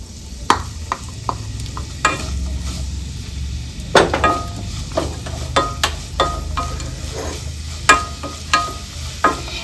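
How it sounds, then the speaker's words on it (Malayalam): Two sliced onions fry in about two tablespoons of hot coconut oil in a pan, a low steady sizzle broken by repeated sharp clacks and scrapes of a spoon stirring against the pan. "പാനിലോട്ട് ഒരു 2 ടേബിൾ സ്പൂൺ വെളിച്ചെണ്ണ ഒഴിച്ചൊന്ന് ചൂടാകുമ്പോഴത്തേക്കും ഇതിലോട്ട് നമ്മൾ ഒരു 2 സവാള അരിഞ്ഞു വെച്ചിരിക്കുന്ന 2 സവാള ഇതിനകത്തിട്ട് കൊടുക്കാം"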